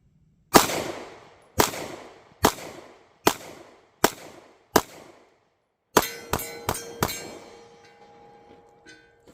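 Ruger Max-9 pistol fitted with an upgraded flat-face trigger fires nine sharp shots: five evenly spaced reports, a pause, then four quicker ones with ringing tails, alone and without voices.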